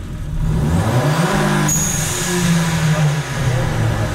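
Volkswagen Golf 4 GTI engine revving hard toward about 5000 rpm, a loud sustained close-up roar with rising and falling harmonics and a brief dip midway, no talk.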